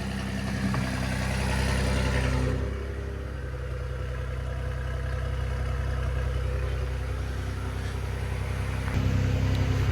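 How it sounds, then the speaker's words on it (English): Ford Ranger Raptor fitted with a dump pipe, cold-started and idling: a loud, steady low engine drone close up, easing slightly partway through and then building again. "Cold start does not sound very nice whatsoever, and it is very loud, very loud"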